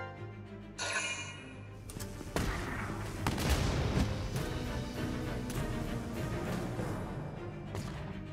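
Dense gunfire and explosive bursts fill a Valkyria Chronicles 4 skirmish battle, with overlapping shots and booms rolling continuously, fairly loud and close, with no voices.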